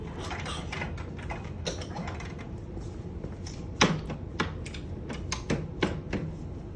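A Steris operating room bed with a malfunction clunks and clicks as its sections adjust, several sharp mechanical knocks over a steady hum of room noise.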